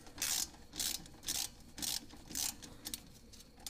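A ratchet wrench clicks in five quick, loud bursts with short pauses between them, loosening the bolt on a strut bracket of a Porsche Cayman 987 during a camber plate install.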